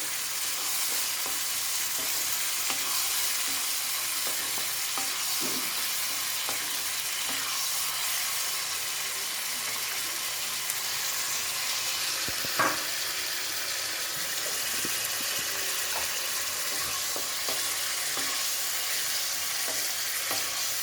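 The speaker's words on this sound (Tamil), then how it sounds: "டொமேட்டோ பச்சை வாசனை போகிற வரைக்கும் நம்ம வதக்கணும்." Tomatoes sautéing in a pan for baby corn gravy give a continuous, even sizzle with a soft hiss throughout, broken by faint stirring clicks and one sharper knock near the middle, with no voices.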